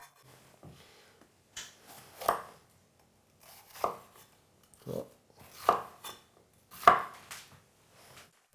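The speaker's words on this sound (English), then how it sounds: "We just cut around the outside here so that we have the nicest pieces for the skewers, right?" Knife cutting meat into pieces for shashlik skewers on a board, a series of separate soft chopping and slicing strokes with quiet pauses between them, close up and without talk.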